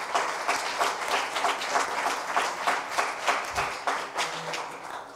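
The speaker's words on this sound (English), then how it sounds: "Why don't we give an applause to all the participants" An audience at a meeting breaks into steady applause, dense clapping from many hands sustained throughout at a moderate distance, with no voices over it.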